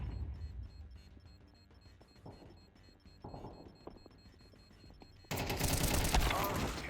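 Rapid bursts of game gunfire in a Counter-Strike esports match, with repeated sharp shots under a steady mix, then a louder, dense burst of firing and noise near the end.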